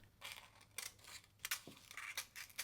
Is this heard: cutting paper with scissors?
yes